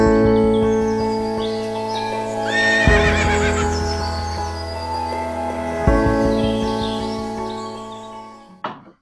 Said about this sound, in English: you know that I got some Percheron draft horses